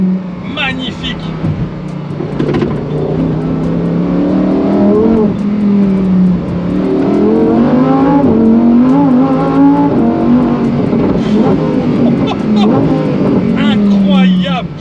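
Lamborghini Huracan STO rear-wheel-drive V10 accelerating hard at full load, a loud, close engine roar that climbs in pitch through successive gears, with a voice speaking over it.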